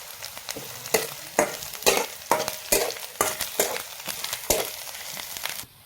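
Cumin and mustard seeds sizzling and crackling in hot oil in a pan, a close, steady fry punctuated by frequent sharp popping bursts and stirring.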